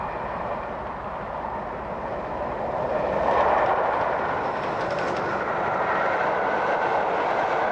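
A Southern Railway steam locomotive hauls a named express train, giving a steady, loud rolling rumble with rail noise that swells slightly midway and continues without voices.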